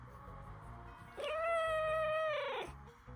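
A pet cat lets out one long, drawn-out meow, loud and close, rising then holding steady before trailing off, with quiet room tone before and after.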